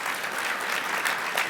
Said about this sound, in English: Go ahead, you can applaud that.